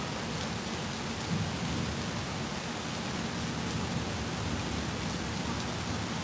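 Heavy rain pouring steadily during a big storm at Disney, a dense continuous hiss with a low rumble underneath, no talk.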